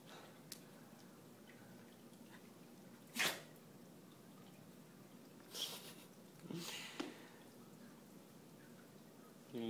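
A dog gives a few short, sharp sneezes and snorts spaced apart over quiet room tone, with faint sniffing between them.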